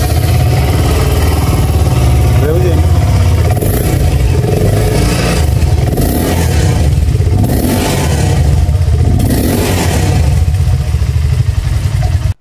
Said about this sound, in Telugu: ఎగ్జాస్ట్ డిజైన్ కూడా చూడటానికి బాగుంది, అలానే సౌండ్ కూడా వినటానికి అయితే చాలా బాగుంది